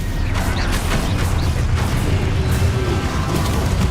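Stupefy spell effect in Hogwarts Legacy: a loud, sustained magical blast with a booming, rumbling low end and crackling bursts throughout, with no talking.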